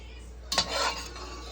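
Potatoes for crispy roast potatoes tumble back into a pan with a short clatter of metal and utensil, followed by a brief rustling scrape, close and alone in a quiet kitchen.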